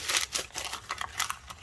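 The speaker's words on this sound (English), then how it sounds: "I can take a whole sheet, crumple it up a bit," A sheet of paper crumpled by hand for papier-mâché, a quick run of close crinkling bursts with no talk.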